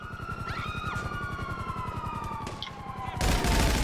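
Rapid, steady automatic gunfire rattles in the video game GTA 5 Online, overlaid with a wailing police siren, with the shooting growing louder and denser at the end.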